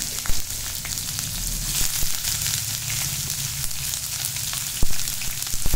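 Chopped onions fry in a pan for a soybean biryani, giving a steady close sizzle with scattered small crackles and pops throughout.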